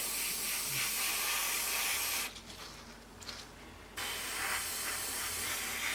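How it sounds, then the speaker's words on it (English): An airbrush mists aluminium metallic paint onto a 1/32 Tamiya F-16CJ model kit piece, a close, steady hiss that drops away for a couple of seconds midway, then resumes at full strength. "check our spray, and all we're going to do is basically metallise this piece"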